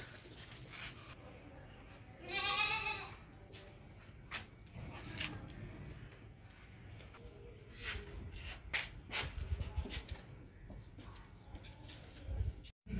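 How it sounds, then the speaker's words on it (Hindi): Goats bleat in a pen, a male and two females, with a few short, fairly close calls scattered among shuffling hooves and bird coos, while people talk quietly in the background. "यानी कि सेंटर वाला बकरा है और 2 बकरियां।"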